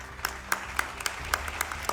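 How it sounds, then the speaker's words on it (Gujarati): An audience at the EmpowHER-2025 women's award ceremony claps in a steady, evenly spaced rhythm, each clap crisp and distinct over a low hum of the hall. "તો તાળીઓ ન અટકવી જોઈએ."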